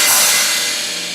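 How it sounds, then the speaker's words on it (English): A cymbal on an American Fotoplayer theatre instrument is struck once, giving a bright, loud metallic crash that shimmers and slowly decays. "Next one is just a cymbal."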